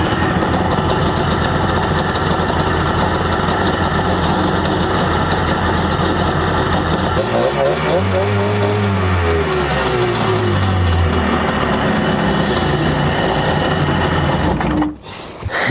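An abandoned jet ski engine runs steadily while warming up, a loud buzzing drone with revving swells in the middle before cutting off abruptly near the end.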